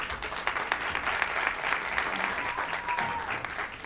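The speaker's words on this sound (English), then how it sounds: "Give her a round of applause." An audience at a Black History program applauds a pianist after her piano prelude, a full steady round of clapping filling the room, with a faint voice briefly audible underneath.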